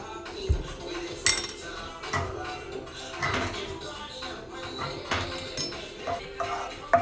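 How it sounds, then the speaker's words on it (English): Garlic and sauce stirred in a pan, irregular metallic clinks and scrapes of a utensil against the pan over a soft background, close and fairly quiet, with no talking. "So sweat your garlic for a little bit and then put the sauce in the pan"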